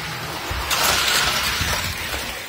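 A race car crashes in a race, producing a loud, harsh burst of crunching and shattering noise that holds for about two seconds before fading, with no talk over it.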